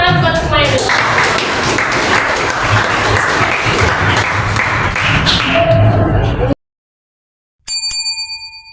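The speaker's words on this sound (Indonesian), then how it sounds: "tepuk tangan buat semuanya" University students in a career-planning class applaud loudly and steadily for several seconds. The clapping stops abruptly, and after a brief silence a bell-like ding rings out and fades.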